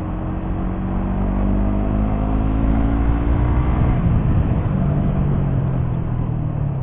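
A manual-clutch motorcycle engine rolls over a speed bump, a loud continuous drone whose pitch rises and then falls as the throttle is opened and closed, with no talking.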